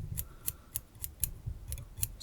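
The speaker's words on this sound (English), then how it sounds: "we're gonna take our scissor and then we're gonna cut away, snip away" Small scissors snipping fibers off a Hoover Shrimp fly at the tying bench, a steady series of about eight sharp, close clicks at an even pace with no talking.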